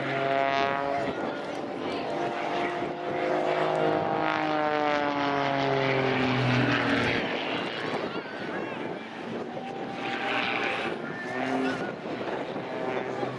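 A Pitts Special S2S aerobatic biplane flies a display at an airshow, its propeller engine droning loudly and steadily with shifting pitch as it manoeuvres, while a commentator talks over it throughout.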